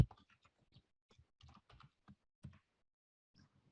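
Keys clack on a computer keyboard in short irregular bursts and single taps, close and fairly quiet, with pauses between strokes.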